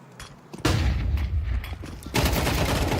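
Gunfire in Counter-Strike during a pro match at the StarLadder Budapest Major 2025, sharp reports followed by loud sustained bursts of rapid firing with a dense rumbling tail.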